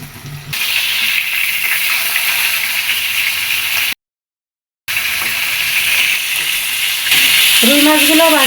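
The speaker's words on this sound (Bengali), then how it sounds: "এখন আমি মাছগুলো ভেজে নেব" Pieces of katla fish fry in hot oil in a kadai, a loud, steady sizzle that breaks off briefly and then resumes, with a voice heard faintly near the end.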